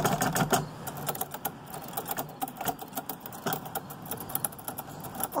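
Keys are struck on a portable Remington Rand typewriter with plastic sides, giving close, crisp, irregular clacks in quick bursts with short pauses between them.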